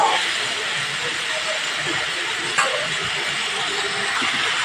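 Chopped tomato sautés in a pan for a pui shak and shrimp chorchori, making a continuous close hiss of sizzling with one faint knock partway through.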